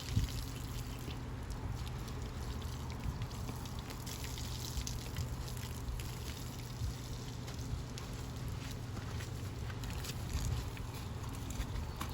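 Garden hose water spraying a horse during her first bath, a continuous close hiss and patter of water over a steady low rumble, unbroken throughout.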